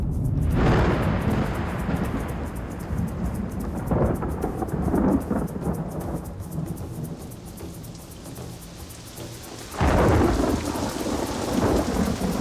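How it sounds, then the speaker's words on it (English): Heavy rain pours with rolling thunder, loud rumbles swelling at the start and again near the end over a constant wash of falling water, with no voices. "Thank you for the good rain."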